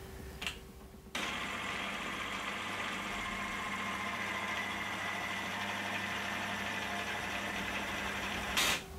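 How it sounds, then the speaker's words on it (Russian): A friction test machine runs a motor lubricated with counterfeit engine oil, giving a steady, close mechanical drone and hum that starts abruptly after a brief click and holds evenly. "проверим эту подделку на машинке трения"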